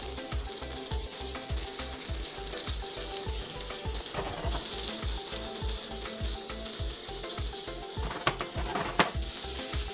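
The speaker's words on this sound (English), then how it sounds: "I'm gonna add my shrimp. I'm gonna cook this for about 2 to 3 minutes." Shrimp fry in a pan with a soft, continuous sizzle and a steady run of low rhythmic clicks beneath it, fairly quiet and without voices.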